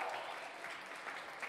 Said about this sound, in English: a huge round of applause for the very proud father of our bride